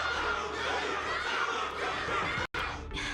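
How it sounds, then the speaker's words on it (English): A large crowd cheers and laughs in Honkai Star Rail, a steady murmuring roar of many voices. The noise runs continuously at moderate loudness and breaks off for a moment near the end. "Can't you hear? Everyone's cheering for you"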